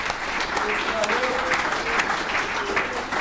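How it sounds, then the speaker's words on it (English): Applause at an alumni meeting of a recovery services group, a steady round of clapping from a modest audience with some voices and a few cheers mixed in. "let's give Will another round of applause"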